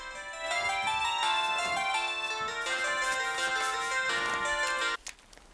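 A mobile phone ringtone plays a bright, continuous melodic tune, loud and close, for about five seconds before cutting off abruptly, leaving only faint room sound.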